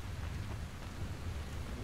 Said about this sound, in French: Oula, quel bel orage.